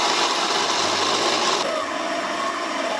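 A spinning pottery wheel whirs steadily as clay is shaped against it, a continuous broadband grinding and rubbing that shifts in tone partway through, close and fairly loud with no talk.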